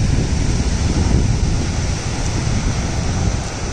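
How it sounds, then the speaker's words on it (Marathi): Waves break and wash steadily on Aare-Ware beach in Ratnagiri, Konkan, heard as a continuous broad roar of surf mixed with wind buffeting the microphone, with no voices. "कोकणातील रत्नागिरीमधील फेमस असणारा आरेवारे बीच."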